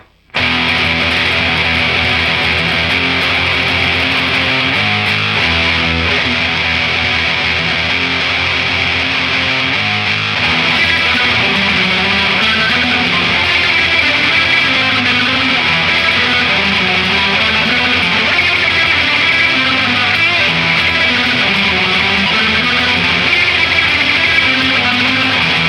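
Distorted electric guitar playing a tremolo-picking exercise with string skipping, dense and sustained at a loud, steady level for the whole stretch with no talking.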